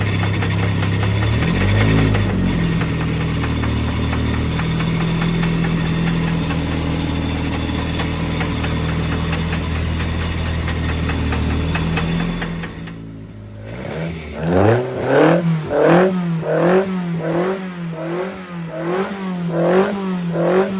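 A 1040 engine runs on a workshop dyno: a loud steady drone for about twelve seconds, then it drops to a lower level and rises and falls in a series of rhythmic revs, with no voices.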